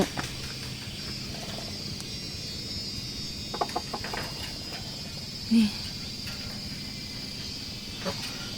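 Chickens and chicks being fed corn in a rural yard, with soft scattered clucks and peeps over a steady bed of insect chirring, plus a brief louder call midway; quiet and fairly distant overall.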